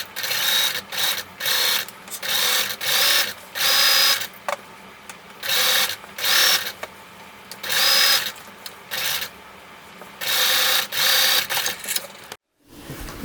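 A sewing machine basts two sleeve layers together, running in steady bursts of rapid stitching separated by short pauses, close and loud with no talking.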